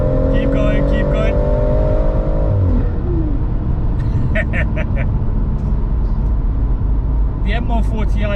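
Stage 3 BMW M140i engine revving hard toward the top end, a loud rising drone that climbs then drops as gears change, heard from inside the car under steady talking.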